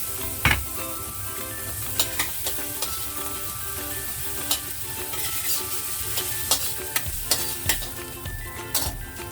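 Garlic sizzles steadily in hot oil as a stir-fry of bitter melon with black beans gets going, with a utensil scraping and clinking against the pan at intervals, close and loud, with no talking.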